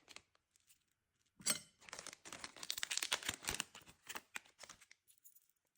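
Plastic gift packet holding a bracelet crinkles and rustles as it is opened, a few faint rustles first, then a dense burst of crackling in the middle that tapers into scattered crinkles.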